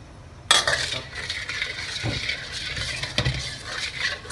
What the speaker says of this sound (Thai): แล้วก็คนให้เข้ากันก่อนครับ ให้มันเดือดก่อนนะครับ